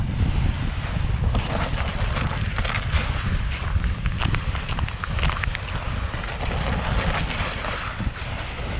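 Strong wind gusting to about 45 km/h buffets the microphone out on a frozen Lake Superior, a loud rough roar that surges and eases throughout, with no voices.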